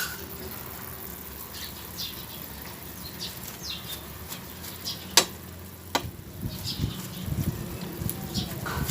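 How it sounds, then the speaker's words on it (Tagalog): Petchay leaves dropped into a pot of boiling chicken soup and stirred, producing a steady bubbling hiss with sharp clanks and sloshing stirring noises, and faint birds chirping in the background. "Pwede na natin ilagay ang ating petchay"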